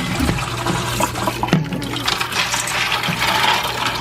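Water pours steadily over scooped-out pumpkin seeds and stringy pulp in a bowl while roasted pumpkin seeds are being prepared. The wet splashing and trickling runs continuously and fairly close, with no talking over it.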